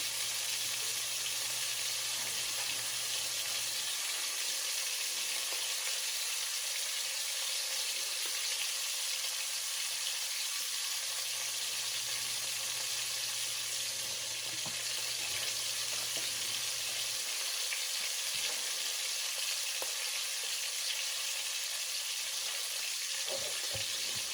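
Oxtails sizzle and fry in a pan on the stovetop, a constant bright crackle that fills the clip, with faint clinks and low mechanical hums coming and going underneath, and no talking.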